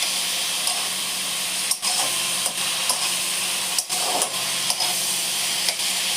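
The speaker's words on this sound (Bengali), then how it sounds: "কিমাটাকে একটু ভাজা ভাজা করে নিচ্ছি।" Minced chicken keema frying in a pan gives a steady, close hiss of sizzling, broken by a few brief scrapes or clinks of a utensil, with no voices.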